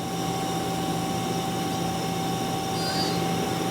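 A Mazak QTN-250MS CNC turning center's main spindle spinning at speed, a steady, even mechanical hum with a constant whine, loud and continuous throughout with no talking.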